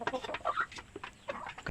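Backyard chickens pecking at feed, giving soft, scattered clucks and short calls with light pecking and rustling in between, fairly faint and close.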